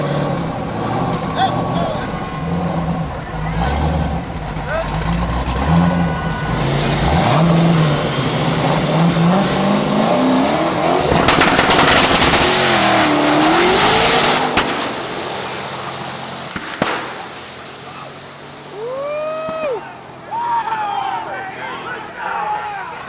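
A loud Trans Am race car with a manual transmission roars and accelerates hard with rising revs, followed by short tire squeals as the noise fades and surges.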